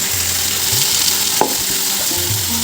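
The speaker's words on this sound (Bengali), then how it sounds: "এখন এই যে মশলাটা দিয়ে দিচ্ছি" A spice paste of dry chilli, roasted cumin and ginger going into a hot pan, a loud steady sizzle with a sharp clatter as it lands, then continued frying hiss.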